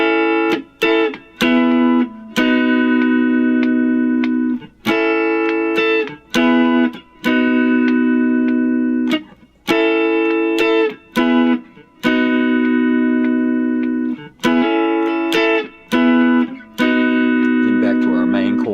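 Distorted electric guitar chords strummed in repeated rhythmic bursts with brief gaps between them, loud and close, continuing throughout.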